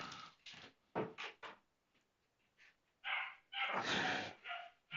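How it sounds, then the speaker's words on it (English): An indoor dog barks in short, loud bursts, several sharp woofs coming in quick clusters with brief pauses, set off by a doorbell buzzing. "dog loves it when the bell goes."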